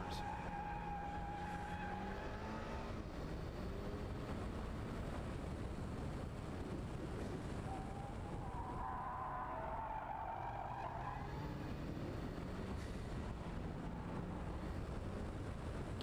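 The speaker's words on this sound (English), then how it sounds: "Hoping that adding strut bars will help eliminate some of that squeal as I take these corners." Tires squealing on a Mitsubishi Lancer Evolution SE cornering hard at an autocross, a sustained tonal screech that rises and fades across the corners over steady engine and wind noise.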